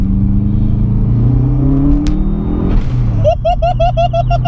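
Modified Subaru Impreza P1 engine revving in second gear on an open road, a loud low droning rumble climbing in pitch before a sharp gear change and pulsing rasp near the end.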